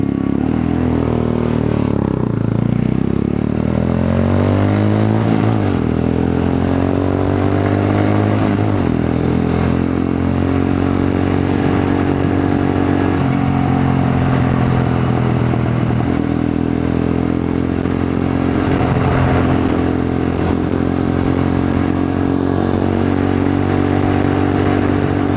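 A Venom X22 motorcycle engine runs loud and close, its pitch rising and falling through repeated revs and gear changes, with some mechanical clatter.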